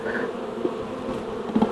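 Honey bees buzz around an open hive frame, a soft steady hum with a few individual bees droning close by.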